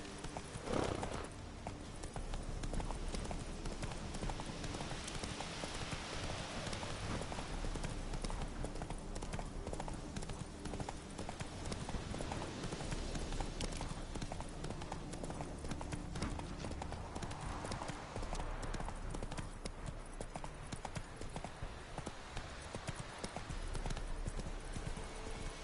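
Hooves of Roach, a horse galloping in the video game The Witcher 3, clop in a steady, continuous rhythm over the in-game ambience with music, with a brief whinny near the start.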